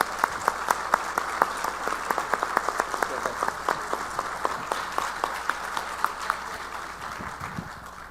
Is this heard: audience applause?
yes